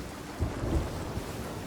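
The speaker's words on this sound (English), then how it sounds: "We'll brave the storm." Stormy sea in a pirate video game, a steady roar of wind and rain with low rumbling thunder and crashing waves, continuous and without talk.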